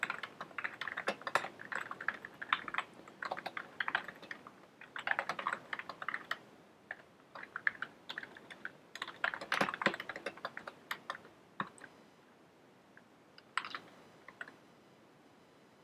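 Code being typed on a computer keyboard, quick close clicky keystrokes in bursts with brief pauses between, fairly quiet and with no speech.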